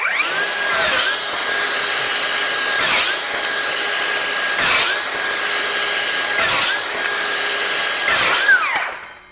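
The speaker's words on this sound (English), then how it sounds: "I'm pushing pretty hard on it and shoving it through the material pretty quickly, and you barely hear the saw" A DeWalt DCS590 20V Max cordless circular saw whines steadily, with five brief louder bursts as it is pushed hard through wood at regular intervals, close and loud, no voices.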